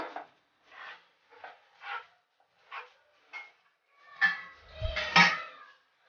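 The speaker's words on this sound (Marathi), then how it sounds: "आता याला हे बघा मी चांगल्या दुधामध्ये मिक्स करून घेते" A spoon scrapes and clinks against a pot while vermicelli is mixed into milk for kheer, a series of soft, short metallic rasps at irregular intervals, faint and close, with one louder clattering stir near the end.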